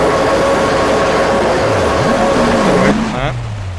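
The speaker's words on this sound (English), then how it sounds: "Constant scraping sound while you're not moving." Racing game audio from Project CARS or Assetto Corsa gives off a constant grinding scrape with a low rumble and wavering tones underneath. It drops away and thins near the end.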